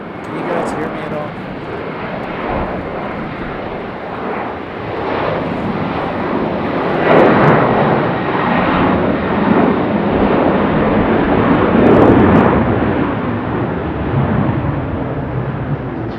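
Airliner passing at Raleigh-Durham International Airport, a loud sustained jet engine roar that swells and holds throughout, with wind buffeting the microphone.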